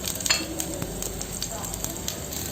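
Garlic, crushed chilies, turmeric and cumin sizzle and crackle in hot oil for a cluster bean sabzi, with a steady frying hiss broken by brief spoon-stirring scrapes, close and alone.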